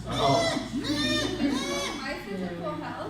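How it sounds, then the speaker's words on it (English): Goats bleat in a wavering, nasal chorus, overlapping and fairly loud, while people talk over them. "So every once in a while I hear goats."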